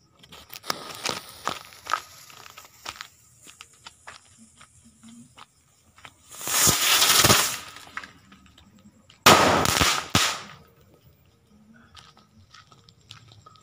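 A Circoblitz firecracker goes off outdoors: scattered sharp crackles and pops come first, then two loud, roaring bursts a few seconds apart, each lasting about a second, with quiet gaps between and no talking.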